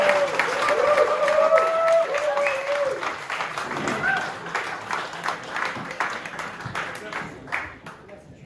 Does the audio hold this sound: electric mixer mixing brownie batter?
no